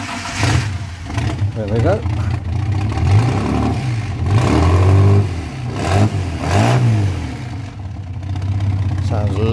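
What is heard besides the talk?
1961 Ford rat rod engine revved with throttle blips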